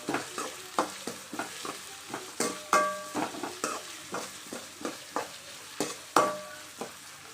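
Chopped onions sautéing in hot oil on high flame for a meal maker gravy, a spatula stirring and scraping the pan in a steady rhythm of sharp knocks over a continuous sizzle, close up.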